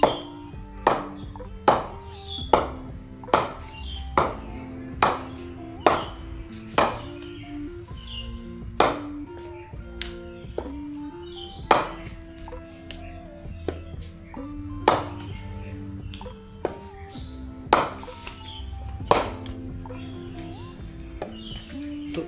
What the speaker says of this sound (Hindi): एक बार इसका भी बैक पिंग चेक कर लेते हैं